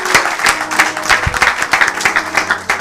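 A church congregation claps steadily and loudly through a sermon, a dense crowd of hands forming a continuous rhythmic applause with no pause.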